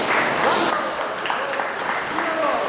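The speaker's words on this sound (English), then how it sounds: "That's not crowd noise, that is a torrential downpour outside at JD Scale Graphics Dream" Torrential rain roars as a broad steady wash outside the Dream Fields Coliseum during an RC monster truck freestyle event, with an announcer talking over it throughout.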